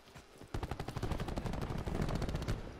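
Rapid automatic gunfire in Call of Duty: Black Ops 4 Hardpoint multiplayer, likely the KN-57 rifle, a dense, steady burst of sharp cracks that continues almost without pause.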